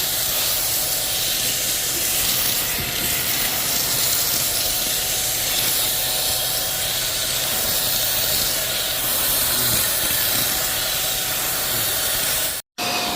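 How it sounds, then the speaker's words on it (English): A UWANT B400 steam cleaner steaming a car center console, giving a continuous close hiss of spraying steam that runs steadily throughout and cuts out briefly near the end. "The steamer works extremely good."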